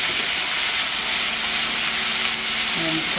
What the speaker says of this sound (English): And while this is going on, we saute the rice little.